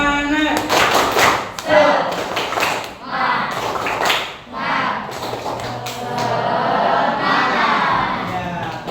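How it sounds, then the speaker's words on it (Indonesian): A classroom of students doing rhythmic spirit clapping (tepuk semangat) led by a teacher, with bursts of patterned claps and group shouts over steady voices throughout. "mari kita tepuk semangat dulu ya"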